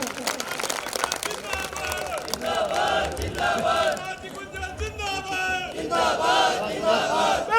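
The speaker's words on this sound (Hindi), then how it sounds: "एक बार जोरदार तालियों से स्वागत करें।" A crowd of party workers at a Congress New Year gathering in Sultanpur claps and cheers to welcome a speaker, a loud mix of applause and shouting that swells and fades across the clip with music-like tones.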